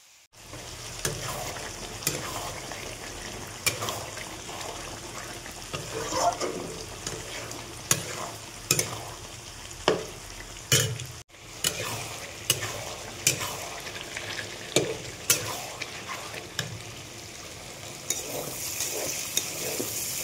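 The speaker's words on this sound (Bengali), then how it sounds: "এখানে আছে ফুলকপি, আলু, পেঁয়াজ, আলু দিয়ে ফোড়ন দিয়ে ভাজা করছি।" Mutton frying with cauliflower, potato, onion and turmeric in a pan: a constant oily sizzle broken by repeated scraping stirs and clicks of a utensil against the pan, close and steady.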